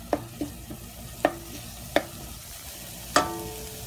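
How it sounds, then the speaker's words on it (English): A pan of frying onions and garlic is scraped across its bottom and edges, giving five or six sharp, separate scrapes over a faint, steady sizzle. "We're going to scrape the edges and the bottom of the pan."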